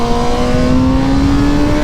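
Stock-exhaust 2019 Kawasaki ZX-6R 636 sport bike engine holding a steady high-pitched, screaming rev, loud and close throughout with no talk.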